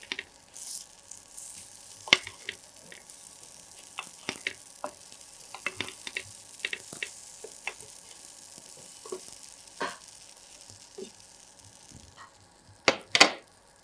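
Paneer adai cooks in a pan over a medium flame, giving a faint, quiet sizzle broken by sparse clicks and brief scraping sounds, with a couple of louder spatula scrapes near the end and no talking.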